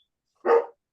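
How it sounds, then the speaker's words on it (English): A dog barks once in the background during a city committee meeting, a single short loud bark with no talk over it. "sorry about the dog."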